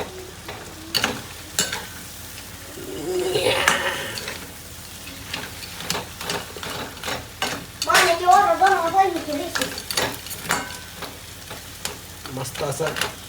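Crab frying in masala in a pan while being stirred, with a steady sizzle and repeated scraping strokes of the spoon, loud at moments and close by, with occasional clinks.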